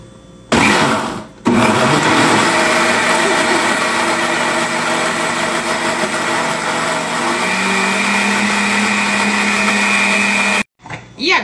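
A kitchen blender whirs steadily for about ten seconds while mixing cake batter made with flour and cornmeal, loud and continuous with a slight shift in pitch partway, starting and stopping abruptly, no talk.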